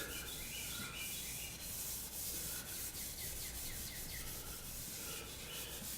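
Steady hand rubbing of a petroleum-distillate hand cleaner into an old wooden furniture finish, working with the grain; a continuous close, even scrubbing hiss that lasts throughout, with faint bird chirps in the background.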